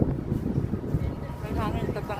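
Wind buffeting a microphone outdoors outside a shopping mall, a loud low rumbling gust over a few seconds, with a voice speaking briefly over it.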